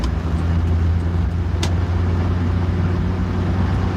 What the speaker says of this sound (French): On fait un dépassement en folie.